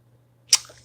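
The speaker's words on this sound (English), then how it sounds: "Some germs hopefully passed away in my sneeze there." One sharp, close sneeze bursts out suddenly after near-silence, then fades quickly.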